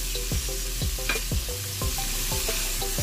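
Squid balls stirred into sautéed chopsuey vegetables in a pan, a constant sizzle broken by regular scraping strokes of a spatula, close and steady throughout.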